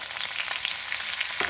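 Ginger paste and green chili pieces fry in a pan, a steady close crackling sizzle that runs throughout with no voice, plus a light clink near the end.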